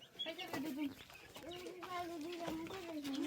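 Chickens in a backyard coop clucking and calling in short wavering bursts, faint and close, with soft talk in the background.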